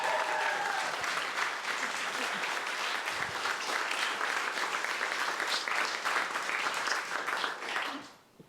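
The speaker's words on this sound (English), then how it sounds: "Can we have a round of applause for my parents?" Wedding guests at a reception break into steady, full applause for the bride or groom's parents during the speeches, a continuous wash of many hands that fades out at the end.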